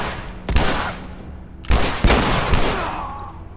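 Gunfire from The Last of Us video game cracks out in several sharp, loud shots, one early and a quick cluster of three later, each trailing off into a brief echoing decay with no talk.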